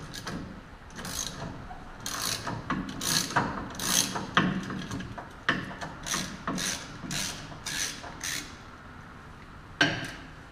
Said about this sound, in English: you can actually use an extension with a socket and get right up in there.